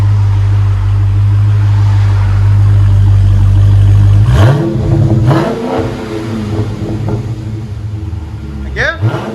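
A Dodge Challenger with a 6.4L HEMI V8 and resonator delete idles with a deep rumble, then revs hard in sharp loud bursts that rise and fall, close up with brief voices.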